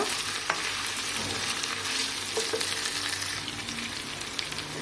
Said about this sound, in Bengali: সব সবজিগুলো একটু তেলেতে ভাজা ভাজা করে নেব।